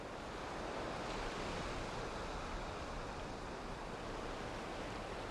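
Steady ocean surf in a video game ocean world, a continuous broadband wash of waves with a wind-like hiss, alone and unbroken throughout.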